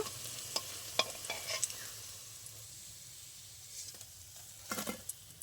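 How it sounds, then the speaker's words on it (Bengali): Fritters sizzle in hot oil for a fish and Malabar spinach pakora recipe, with soft steady frying broken by brief clinks and stirring scrapes near the pan. "আমার বড়াগুলো এরকম লাল লাল করে ভাজা হয়ে গেছে"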